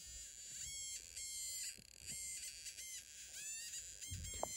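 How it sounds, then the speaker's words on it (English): A thin, high electronic whine from a Snap Circuits whistle chip buzzes like a mosquito, pulsing on and off and wavering in pitch as a hand moves over a photoresistor, with faint low rustles underneath. "the whistle chip sound makes a sound that's a lot like that of a mosquito"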